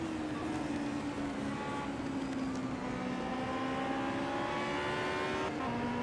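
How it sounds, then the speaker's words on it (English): Touring race cars at the Cordoba circuit run close together in a slipstream, a sustained engine drone whose pitch rises slowly and shifts near the end, heard from a distance without talk. "having a look on the inside of Michael Stead at the end of the back straight there, very close into the slipstream"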